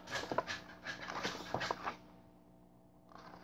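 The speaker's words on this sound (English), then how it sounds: "Sorry for the scratching. My dog wants to go out." A dog scratches at a door and whimpers to go out, with a run of close, raspy scratches and soft whines that then fade to quiet.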